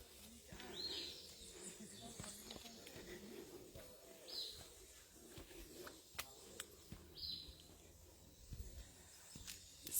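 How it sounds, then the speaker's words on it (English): Birds calling on a quiet morning in a botanical garden's flower forest, with three soft chirps spaced a few seconds apart over a faint, hissy background and distant murmuring. "just let you hear the silence of the morning and the birds"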